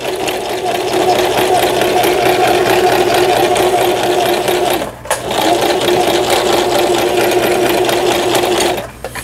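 A Riccar Sunny 1015 home sewing machine runs loud and close after repair, stitching straight and in reverse with a fast, even mechanical chatter, briefly stopping twice.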